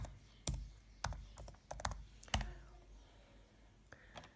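Clicky keystrokes on a computer keyboard tap out a search in short irregular bursts, close and fairly quiet, with pauses between clusters and no talk.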